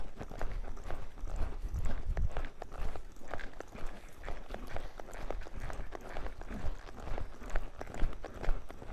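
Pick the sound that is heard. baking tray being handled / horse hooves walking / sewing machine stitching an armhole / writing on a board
horse hooves walking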